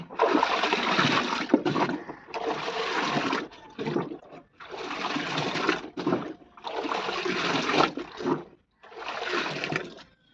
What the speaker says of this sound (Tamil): உப்பு போட்டாச்சு எல்லா ப்ராசஸும் முடிஞ்சிருச்சு நல்லா கலக்கி விட போகிறோம்